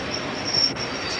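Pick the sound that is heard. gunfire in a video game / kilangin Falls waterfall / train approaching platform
train approaching platform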